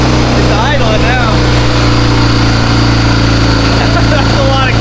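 An old Honda Goldwing motorcycle engine idles steadily and loudly up close, a constant low rumble throughout, with faint voices underneath.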